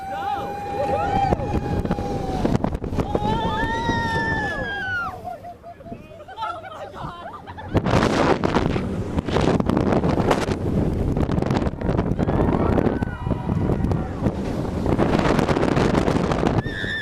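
Launched roller coaster ride on Time Traveler at Silver Dollar City, recorded in reverse onboard: steady roaring wind rush and rattling track noise, a brief lull, then a louder surge, with riders shouting and screaming throughout.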